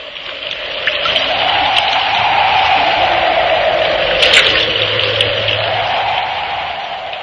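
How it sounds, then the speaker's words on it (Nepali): A sound effect of a howling storm wind over rushing river water runs for several seconds in a Nepali radio story, a loud, steady, close wash of noise with a faint rise and fall and no voices. "ठूलो हुरी बतास लाग्यो र नदीको पुल भत्की"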